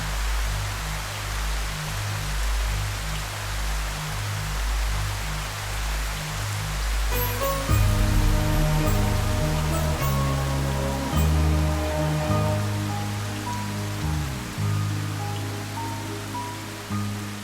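Heavy rain pours down in a dense, steady hiss throughout, with a low droning music-like hum entering partway through and continuing beneath it.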